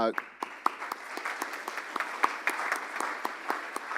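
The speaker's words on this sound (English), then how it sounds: "can we give a standing, just some hand clap for these people?" A Rotary Club audience gives a round of hand clapping, a brisk, continuous burst of many claps filling the room at moderate volume.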